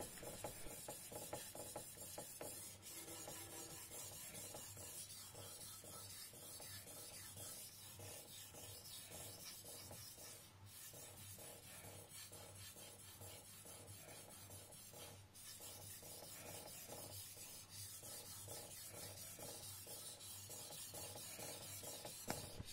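A Teruyasu Fujiwara Maboroshi Shirogami #1 gyuto kitchen knife is drawn across a 3000 grit whetstone, giving a continuous fine, hissing scrape with quiet rhythmic strokes at low level.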